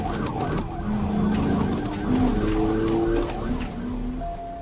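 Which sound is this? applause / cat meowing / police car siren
police car siren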